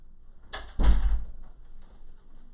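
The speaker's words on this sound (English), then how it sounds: "And I'm going to shut the door." An indoor door is pushed shut with a sharp knock and a heavier thud close by, followed by a brief faint rattle, then quiet, with no speech.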